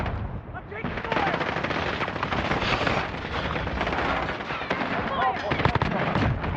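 Rapid automatic gunfire and explosions from a multiplayer shooter video game match over a contested hard point, loud and continuous, with a player's voice talking under the dense barrage throughout.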